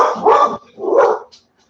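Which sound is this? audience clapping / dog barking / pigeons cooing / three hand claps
dog barking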